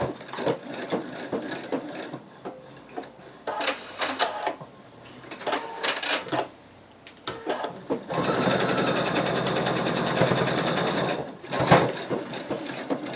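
A sewing machine stitches detail lines on a betta fish plush, with scattered knocks and fabric handling first, then a long steady run of stitching, all close by.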